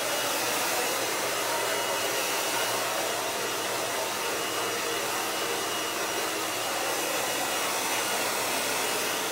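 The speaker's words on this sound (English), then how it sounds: "I move around a lot when I'm blow drying my hair" A hand-held hair dryer roars continuously at close range while rough drying hair, a loud, even broadband blast with no pauses and no voices.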